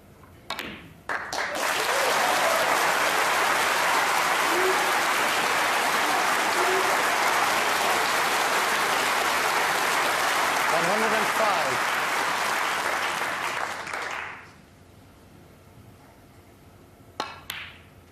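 A snooker crowd at the Crucible breaks into loud sustained applause for a century break in the 2002 Ebdon versus Stevens match, swelling quickly, holding for over ten seconds, then fading, with a commentator's voice briefly underneath.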